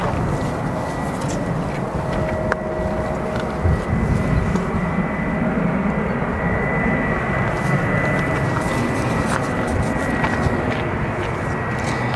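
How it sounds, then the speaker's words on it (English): A Boeing 787-10 arriving at O'Hare airport, heard as a steady, moderately loud jet rumble with a faint high whine running through it. "our next arrival is a Boeing 787-10"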